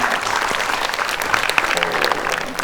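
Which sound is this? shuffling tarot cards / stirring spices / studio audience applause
studio audience applause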